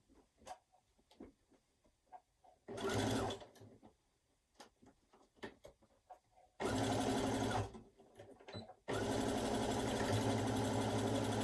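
Sewing machine stitching an overlapped flat seam on trouser fabric, with three loud sustained bursts of running separated by quieter handling clicks, the last burst running steadily to the end.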